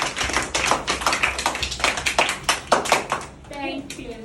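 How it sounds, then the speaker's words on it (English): Schoolchildren in a classroom clap for themselves in a quick run of sharp, close hand claps lasting several seconds, then the clapping fades and a voice speaks. "Clap for yourself."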